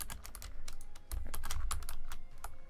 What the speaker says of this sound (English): Sorry for my keyboard. I got a new keyboard. It's amazing. I love it. It's super sensitive.